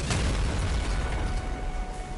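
A heavy grenade launcher explosion in the video game Nuclear Throne, a dense, booming blast with a low rumble that fills the whole moment at a steady loudness.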